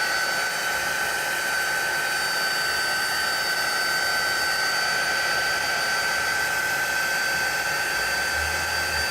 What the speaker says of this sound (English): And then I'm going to dry this real quick with a dryer, or hand dryer. Or I should say heat gun, but I call it a dryer.